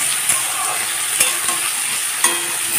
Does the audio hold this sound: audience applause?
no